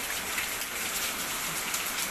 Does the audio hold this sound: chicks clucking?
no